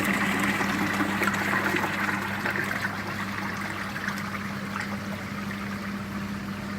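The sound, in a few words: water refilling Evolution Aqua Nexus koi pond filter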